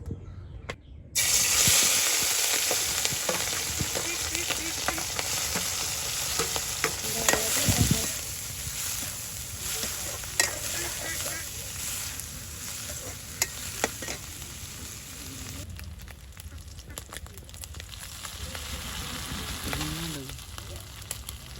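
Ichha and dondul river fish sizzling and frying in hot oil in a village kitchen, a steady crackling hiss with stirring clatter throughout, close and moderately loud.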